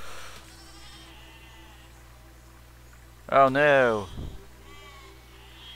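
A sheep in the video game Besiege lets out one loud, wavering bleat lasting about a second, heard over a quiet low game hum, with a person's exclamation just before it.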